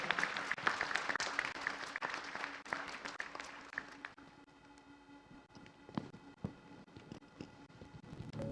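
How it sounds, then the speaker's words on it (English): An audience claps for the panelists at an ASEAN blue innovation expo, with dense applause in the first half that thins to scattered claps and a few loud individual hand claps nearby. "please give a big round of applause to the fantastic panelists"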